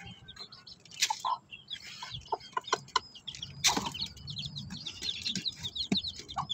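Chicks and hens cluck and peep around a low feeder, scattered close calls and sharp chirps coming in quick irregular bursts over a quiet farmyard background.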